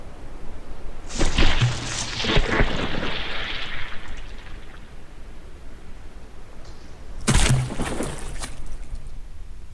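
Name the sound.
shell explosion hitting a ship in the video game From The Depths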